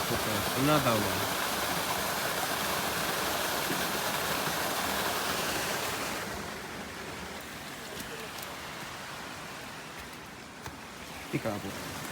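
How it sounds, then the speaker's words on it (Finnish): A natural waterfall in a jungle in the Azores pours with a dense, steady roar that stays loud and then eases slightly, with a few faint sounds near the end. "Luonnon vesiputeus."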